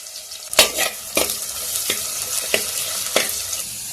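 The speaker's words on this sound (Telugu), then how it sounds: "ఇప్పుడు ఎర్రగడ్డలు బాగా ఎర్రగా వేయించుకోవాలి." Onions frying in a pan with mustard seeds and cumin give a steady hissing sizzle, broken by about five sharp stirring scrapes at roughly even intervals.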